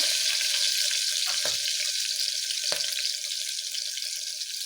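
Vangi rice bath frying in a pan gives a steady, bright hiss of sizzling oil with two brief knocks, close and fairly loud throughout.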